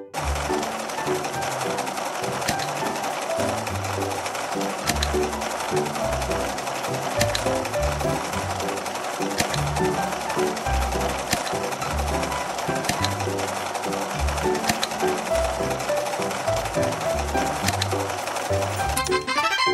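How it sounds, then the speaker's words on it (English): A sewing machine stitches blouse pieces together in a dress-up game. The whirring runs steadily and fairly loud throughout, alongside a repeating backing tune. "Let's sew the blouse pieces together."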